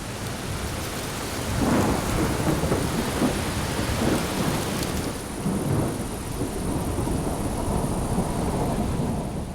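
Steady heavy summer thunderstorm rain with low rumbling thunder rolling through, deep booms swelling and fading over a constant wash of rainfall.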